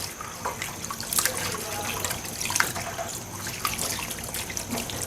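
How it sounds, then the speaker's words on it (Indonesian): Something is washed back and forth by hand in water until it runs clear, with continuous close sloshing, splashing and trickling. "ini tinggal dicuci bolak-balik sampai airnya bening"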